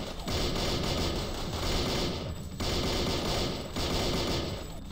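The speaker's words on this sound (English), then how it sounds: "Even though I don't have any skill with submachine guns" Submachine gun fire in the video game Madness Project Nexus, a dense, sustained automatic burst that rattles on for nearly the whole stretch with two brief gaps, loud and close, with no talking.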